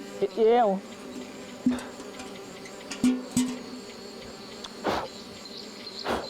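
Bees buzz around honey hives in Kenya, a close whining drone that rises and falls in short passes, with scattered knocks and rustles between them.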